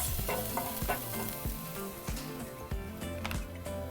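Minced garlic sizzling in oil in a pan for a beef stir fry, a dense continuous crackle with frequent clicks and taps of the utensil, close and unbroken.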